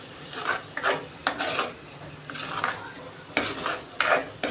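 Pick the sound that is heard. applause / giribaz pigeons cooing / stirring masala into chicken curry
stirring masala into chicken curry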